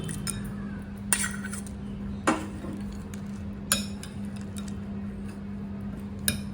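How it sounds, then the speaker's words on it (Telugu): Spoon stirring chickpea chaat with lemon and fried peanuts in a bowl, a few soft clinks of metal against the dish spaced about a second apart over a steady low hum. "నిమ్మకాయ చెక్క వేసుకున్న తర్వాత మొత్తం అంతా ఒకసారి కలుపుకోవాలండి"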